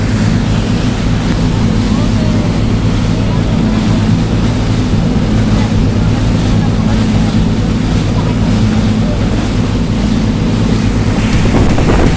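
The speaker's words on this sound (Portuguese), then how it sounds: "mas eu estou indo de barco" A boat travels on the Rio Negro near Manaus. Its motor drones low and steady beneath constant wind buffeting and rushing water, loud and close throughout.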